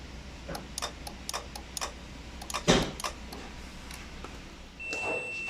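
A Mazda6 relay gives a series of sharp mechanical ticks and clicks, irregular then briefly rapid, close by, over a low steady hum, with an AC compressor fault.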